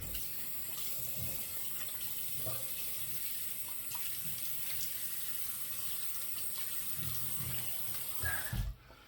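A bathroom tap runs steadily to wet the face before shaving with a slant razor, a faint continuous stream of water splashing into a sink with small handling sounds and a brief clatter at the end.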